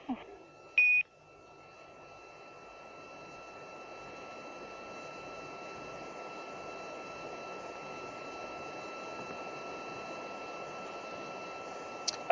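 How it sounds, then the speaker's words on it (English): A short Quindar tone beep on International Space Station crew communications, followed by a long stretch of faint, steady radio hiss. "So what we heard was those beeps are Quindar tones"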